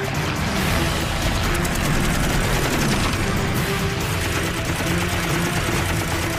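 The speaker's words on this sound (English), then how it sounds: "The Wildcat's 6 50 caliber guns deliver 200 rounds in a 4-second burst." A Grumman F4F Wildcat's six .50 caliber machine guns fire one sustained burst in a World War II dogfight over Guadalcanal, a loud, dense, continuous rattle that fills the whole stretch with no pauses.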